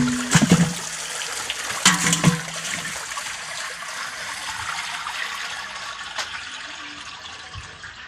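Water runs steadily from a kitchen tap while a container fills, a constant hiss and trickle. A few clanks are heard near the start.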